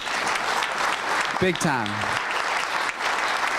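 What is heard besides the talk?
audience applause at a Rotary Club meeting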